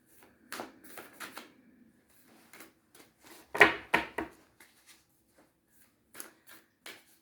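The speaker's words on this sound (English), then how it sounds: "Three more shuffles." Tarot cards are shuffled in several quick riffling bursts, soft papery flutters close by with short pauses between them.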